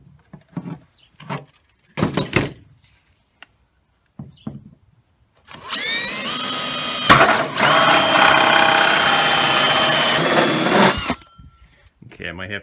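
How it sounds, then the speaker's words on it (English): A brief exchange of talk gives way to a power drill whining steadily through a hole in a cooler for about six seconds, with a short pause midway, then stopping. "So let's drill this hole and see what we do."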